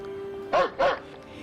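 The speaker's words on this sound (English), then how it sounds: "The dog was growling and barking." Dog barking twice in a house during a commotion with a dove, two loud, close barks in quick succession over a faint steady hum.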